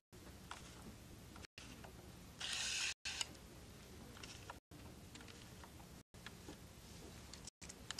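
On a Bond Elite knitting machine, needles are pushed into working position with faint clicks and ratcheting scrapes. The quiet sounds come in short bursts separated by brief gaps, and no one speaks.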